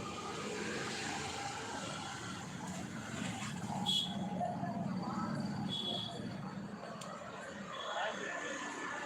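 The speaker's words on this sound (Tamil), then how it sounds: "கடையில் இருக்கிறதுனால கொஞ்சம் கார் பைக்கு சவுண்டு கேட்டுகிட்டே இருக்கும்" Continuous road traffic hum of cars and motorbikes passing nearby a shop, engine noise rising and falling under a steady background roar.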